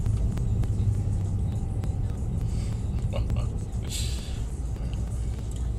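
A Mercedes-AMG C63S drives on a race track, its heavy engine rumble droning steadily from inside the cabin while people talk over it.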